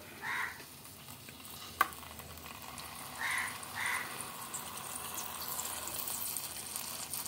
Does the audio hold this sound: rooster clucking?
no